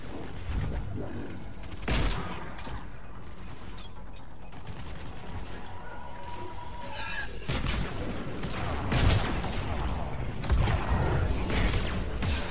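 Video game combat in Mass Effect 3 with dense bursts of gunfire and explosive blasts, including a grenade, continuous and loud throughout with brief heavier impacts, layered over game effects.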